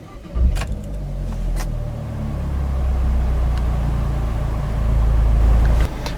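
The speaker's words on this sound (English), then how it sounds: "So just apply the clutch and turn the key to start the car." A 2015 Opel Corsa OPC engine cranks and fires up close by, with a sharp start burst followed by a steady, rumbling idle that ends abruptly near the close.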